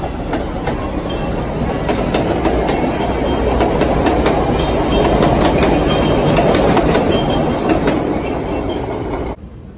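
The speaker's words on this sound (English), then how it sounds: "And we have the train." A Chicago Purple Line train rumbles steadily along the rails with rhythmic clacking of wheels, loud and close, a continuous heavy roar with no voices.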